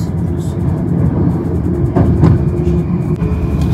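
A Moscow metro express train running between stations, a steady loud rumble and roar from inside the moving train, with a couple of sharp clanks partway through.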